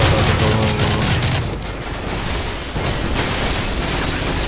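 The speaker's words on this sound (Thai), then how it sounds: "กดจีเพื่อปาระเบิด" A grenade blast in Call of Duty Modern Warfare 3 single-player: a loud, dense rumbling explosion that fills the clip, with crackling debris and a sustained roar continuing to the end.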